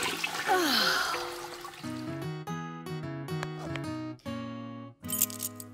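A cartoon toilet flushes with a whooshing swirl of water, followed by bright musical tones and cartoonish sound effects, loud and close.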